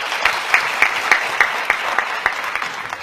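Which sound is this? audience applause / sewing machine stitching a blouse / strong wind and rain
audience applause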